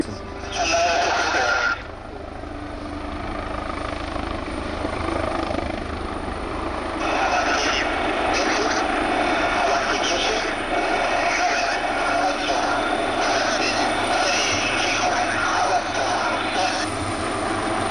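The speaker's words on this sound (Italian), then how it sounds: "l'elicottero si predispone all'avvicinamento" An AgustaWestland HH-139 search-and-rescue helicopter approaches at an air show, its rotor and engine roar filling the scene, with a loud burst early on and then a sustained, steady drone, and radio-like voices faintly underneath.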